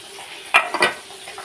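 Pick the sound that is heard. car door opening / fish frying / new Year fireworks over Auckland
fish frying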